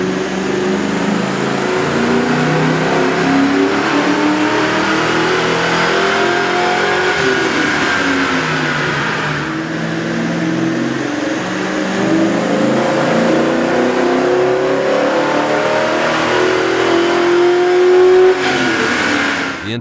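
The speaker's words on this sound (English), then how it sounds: "we ran the vehicle on the dyno to test the sound comparison versus the stock intake" A Ford Mustang GT V8 engine with a K&N air intake revs hard and continuously under load on a dyno, the pitch climbing in long sweeps, dropping back, and climbing again, loud and close.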